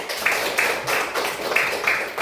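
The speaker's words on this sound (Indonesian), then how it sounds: "Tepuk tangan untuk si Kenny." Scattered clapping from a Year 5 class for a student, several uneven bursts of hand claps repeating across the moment, fairly close and a little sparse.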